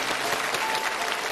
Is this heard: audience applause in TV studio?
yes